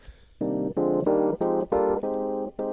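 Nord Electro electric keyboard chords played in a steady sequence, six or seven sustained stabs with short gaps, full and close, no talking.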